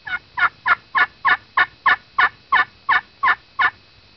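A series of about eleven evenly spaced yelping notes from a turkey friction call, loud and close in a steady rhythm.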